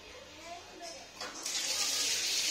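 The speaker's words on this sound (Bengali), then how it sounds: "জলটা ফেলছো কেন?" Water splashes and gushes as it is poured out, starting soft and swelling into a louder steady stream by the end, close by, with a voice faintly underneath.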